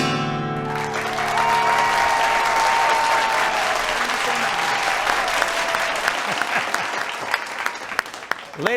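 Audience applause at a live variety show, steady dense clapping that swells and holds for several seconds, with sustained music tones ringing underneath and a few sharper claps near the end.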